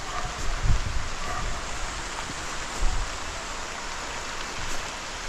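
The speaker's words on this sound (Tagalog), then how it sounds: "Grabe tong ulan na to." Steady, heavy rain pours down in a continuous hiss, with a few low thumps breaking through.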